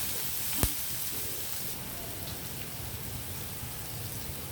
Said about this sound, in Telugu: ఉల్లిపాయలు కొంచెం వేగుతున్నాయి కదా ఇప్పుడు కారం వేసాను